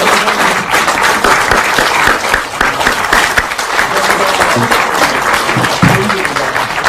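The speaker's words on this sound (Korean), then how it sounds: "환영과 축하의 박수 한번 주십시오." Sustained, dense applause from a political party gathering welcoming four newly joined lawmakers, steady and full throughout with scattered crowd murmur underneath.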